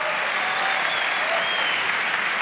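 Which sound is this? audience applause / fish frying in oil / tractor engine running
audience applause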